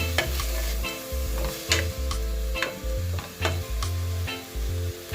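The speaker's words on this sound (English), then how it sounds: "we're gonna stir for another 5 to 10 minutes" Chicken and rice with shredded carrot sizzling in a single pot while being stirred, a constant frying hiss broken by repeated rhythmic scrapes and clunks of a spoon against the pot, close and with no talking.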